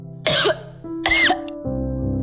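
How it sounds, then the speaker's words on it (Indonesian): A feverish boy coughs up close, a couple of harsh, rough bursts with a throat-clearing rasp between them and a low hum underneath; no one speaks. "Jack mulai batuk"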